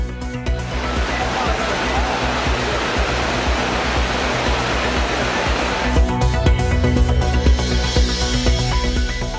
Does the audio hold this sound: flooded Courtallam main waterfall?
yes